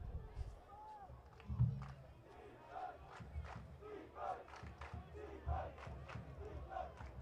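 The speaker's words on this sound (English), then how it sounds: "Crowd really starting to swell here today." A crowd of close to a thousand at a high school lacrosse playoff game between McDonogh and Boys' Latin cheers and shouts in scattered bursts, faint and distant throughout.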